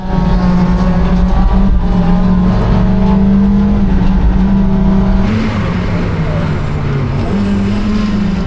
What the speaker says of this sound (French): elle marche sa NB à Jessie, et en plus elle fait un super bruit